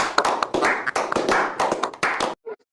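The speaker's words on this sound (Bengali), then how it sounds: "এই সবাই হাততালি, হাততালি।" Classroom of children clapping their hands on the teacher's call, a loud, dense burst of many overlapping claps that stops abruptly, followed by a brief faint sound.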